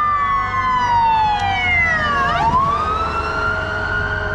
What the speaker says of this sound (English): There's a husky howling